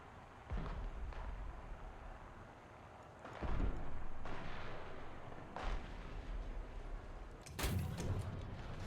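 Artillery fire mission in a video game: several deep, booming shots at irregular intervals, the loudest near the end, over a steady low background rumble, with no speech.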